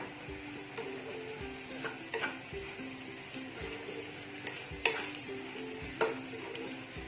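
Tapioca thoran being stirred in a pan, a soft ongoing sizzle with repeated scraping strokes and an occasional sharper knock of the utensil, no one speaking.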